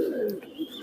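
Rampuri pigeon giving a soft, low cooing call, close and fairly quiet, a brief rolling coo with a faint higher chirp partway through.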